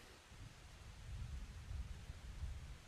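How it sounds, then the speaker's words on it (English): Soft, steady rain patters down as a low continuous hiss with gentle rumbling swells, faint and distant, with no voices over it. "It's raining."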